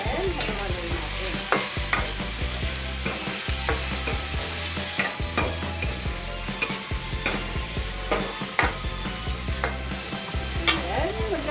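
Sliced sayote frying in a pan and being stirred, a steady close sizzle with repeated scraping strokes and utensil knocks against the pan, no voices.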